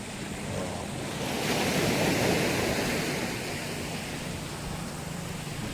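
Sea waves break and wash ashore close by, a loud, continuous rushing surf that swells in the middle and then settles, with wind buffeting the microphone and no voices.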